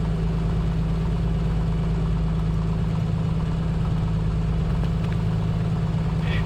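In Microsoft Flight Simulator 2024, an aircraft engine idles at Chilliwack airfield, a steady low drone that holds at even loudness throughout with no voices.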